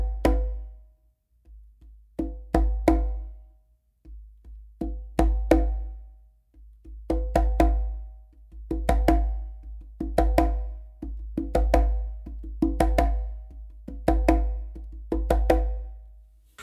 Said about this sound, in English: which is gonna be an open slap with your non-dominant hand and then an open slap with your dominant hand